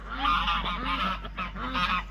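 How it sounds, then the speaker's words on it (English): Waterfowl arriving at a backyard koi pond honk and call repeatedly in a loud, close, continuous chorus over a steady low hum. "these ducks just start coming down to the koi pond"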